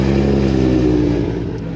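Turbocharged Nissan Z car engine revving hard, a loud sustained close-up roar with a strong low drone that eases slightly toward the end.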